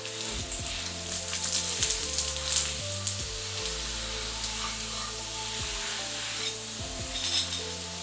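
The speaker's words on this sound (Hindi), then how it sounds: "इस साइड पे भी ऑयल लगा लेंगे।" Oiled roti sizzles on a hot griddle in a continuous crackling hiss, close and fairly loud, with soft scraping and stirring-like touches over background music.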